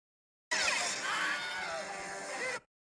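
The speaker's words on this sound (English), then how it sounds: "So that is the Wilhelm scream" Stock Wilhelm scream sound effect: a single loud, high-pitched male shriek lasting about two seconds, sharp onset and abrupt cutoff, heard alone with no talk.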